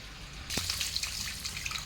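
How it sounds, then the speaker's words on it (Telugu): After a brief quiet start, water begins pouring with a bright, splashing trickle that continues steadily, close by. "ఇప్పుడు నేను ఇందులో నీళ్లు పెట్టి చూపిస్తాను మీకు"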